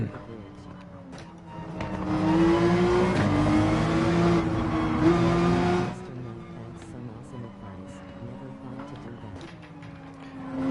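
Race car engine from Gran Turismo 7 rising in pitch as it accelerates, loud and close for a few seconds with an upshift, then settling lower while a voice talks over it.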